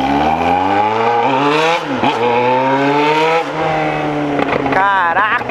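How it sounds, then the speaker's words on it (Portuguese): A Yamaha XJ6 motorcycle with a straight exhaust roars up close and keeps revving, its pitch rising and dipping as it goes, and a drone underneath never lets up. "minha moto berra muito"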